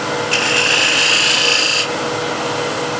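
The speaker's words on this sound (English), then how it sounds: "I'll smooth this with a shear scraper." A shear scraper smooths a piece of wood in a single steady rasping stroke lasting about a second and a half, close and clear, with no talking.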